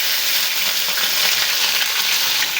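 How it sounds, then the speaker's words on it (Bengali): Garlic, onion and cumin paste fries in hot oil for a fish curry, giving a dense, constant close-up sizzle with a faint stirring texture. "তেল গরম হলে আমি দিয়ে দিলাম রসুন বাটা, পেঁয়াজ বাটা, জিরে বাটা"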